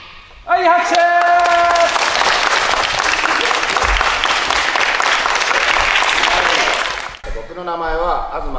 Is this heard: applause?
yes